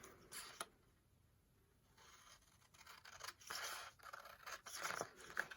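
Scissors cutting card paper along a pencil line, several quiet snipping and scraping bursts, close up, with pauses between strokes and no talk.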